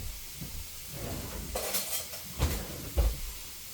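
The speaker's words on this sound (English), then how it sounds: "Let me get a spoon." Cutlery and dishes clink and clatter in a kitchen as a spoon is grabbed, with several sharp knocks and rattles, the loudest near the end, over a quiet background.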